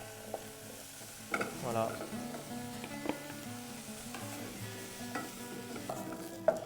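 Carrot, onion, thyme and garlic sizzle in a pan as aromatic garnish for sea bream, with a soft steady fry and clinking stirring strokes, and a voice speaking briefly once.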